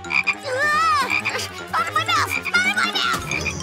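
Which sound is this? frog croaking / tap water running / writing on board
frog croaking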